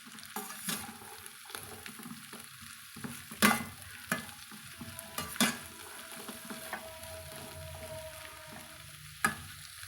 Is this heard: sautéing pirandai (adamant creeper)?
yes